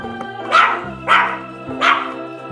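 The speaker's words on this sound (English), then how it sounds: "It's a Dachshund dog." A Dachshund barks three times at a steady, evenly spaced rhythm, loud and close, each bark short and sharp with no talking over it.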